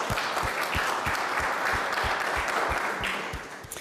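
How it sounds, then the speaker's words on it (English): Community members at a Safe Streets meeting applaud themselves, a full steady round of clapping from a roomful of people with a few louder claps standing out, tapering off near the end. "Let's give yourselves a round of applause for being here today."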